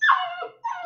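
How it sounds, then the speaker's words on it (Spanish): A female dog gives a brief high whimpering yelp followed by a second short whiny bark, close and fairly loud, with nothing else around it. "Qué hermosura de perra."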